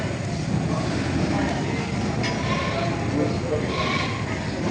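Goats and sheep at a livestock market bleat now and then over a busy background, a few bleats rising above the noise while people talk nearby.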